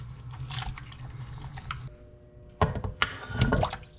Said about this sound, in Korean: 이물질이 묻기 쉬운 빨판을 열심히 닦아줍니다.